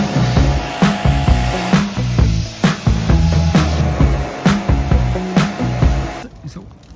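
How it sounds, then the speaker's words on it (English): Water spray hissing steadily as it rinses dirt off the boards of an old wooden playhouse, a continuous close wash broken by short repeated bursts and knocks. "I'm gonna have to spray all of this again after I clean the top"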